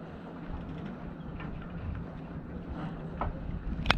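A racing trimaran's engine hums steadily under wind noise as it motors without sails in a harbour, with a few brief faint clicks and knocks near the end; no voices.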